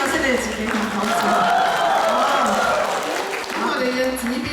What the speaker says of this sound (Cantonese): 俾啲掌聲你哋自己同講先。